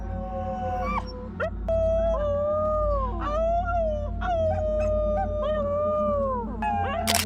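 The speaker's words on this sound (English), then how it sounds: "This dog can sing, or at least it can yodel." A New Guinea singing dog yodels in a run of rising and falling wavering howls with slides and breaks in pitch. It is loud and close over a steady low background rumble.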